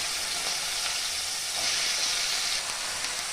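Bitter gourd and green chilies spit and sizzle steadily in hot oil, a continuous close frying hiss with no talking.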